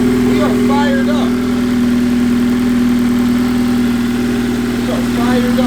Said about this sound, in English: We are fired up, baby. And it sounds quiet. It sounds healthy as hell. No valve tap.